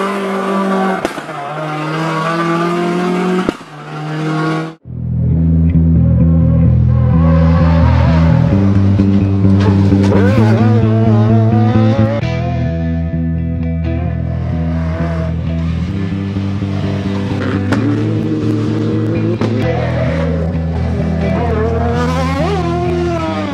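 A race car competes at the Pujada al Farell 2013 hill climb. Its engine is loud and close, revving hard through repeated rising gear pulls with sharp shifts, holding a sustained high-pitched roar.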